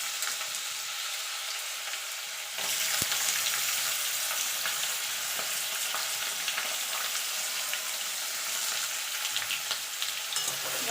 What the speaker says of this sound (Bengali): গাজরটাকে একটুখানি ভাজা ভাজা করে নেব